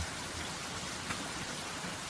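Heavy, steady rain falls continuously, a dense even hiss of drops with no pauses and no talking.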